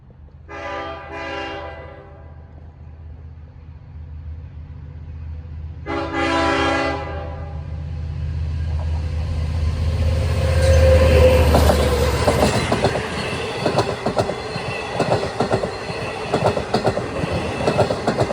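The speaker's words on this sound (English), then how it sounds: "The first of the diesel rush hour fleet to Port Jeff." An LIRR diesel rush-hour train bound for Port Jefferson, passing through wooded country near Cold Spring Harbor and Syosset, sounds two horn blasts, then a longer one, and its engine swells into a loud close rumble with rattling, clacking cars.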